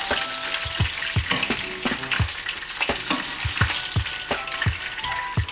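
Monkfish scampi sizzles and crackles in a frying pan, with a steady frying hiss broken by regular scraping stirs about twice a second, close and clear with no talking.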